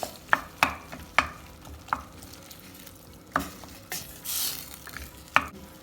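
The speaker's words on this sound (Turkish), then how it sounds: "Yirmi dakikada bunu kavuracağım." Homemade pepper and tomato paste is sautéed in a pan, with a soft sizzle broken by sharp, irregular clacks of a spoon stirring against the pan and a brief louder hiss.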